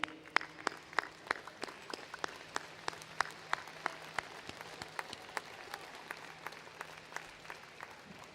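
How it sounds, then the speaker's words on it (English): Audience applause at a spring college of law graduation ceremony: sparse, scattered claps build in a steady patter across a large hall, moderately distant, with a faint low hum underneath and no voices. "give these folks a round of applause"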